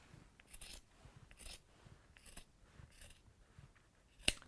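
Scissors snipping through a fabric seam allowance to reduce bulk while sewing, a few soft scattered cuts ending in one sharper, louder snip; quiet and close with no talking.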